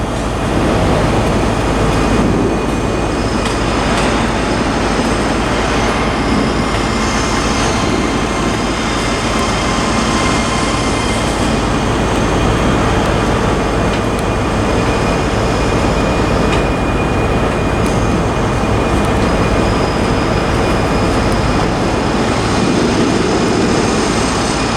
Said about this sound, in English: Okay, arriving into platform 1 now.